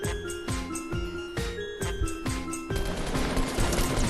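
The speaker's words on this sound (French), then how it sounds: "Ça tire, ça tire." Rapid gunfire in the video game Fortnite, repeated bursts of close shots in a steady rhythm over game music, growing denser and noisier toward the end.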